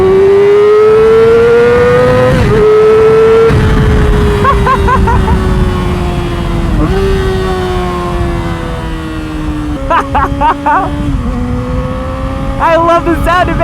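A Yamaha R6 motorcycle engine pulls hard through first gear, a loud sustained high-pitched whine rising in steps with brief dips at shifts or throttle changes, close and dominant with voices calling out over it.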